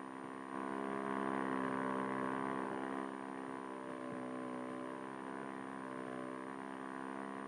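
An outboard motorboat engine drones continuously at an even pitch, loud and close, with a slight wavering toward the middle.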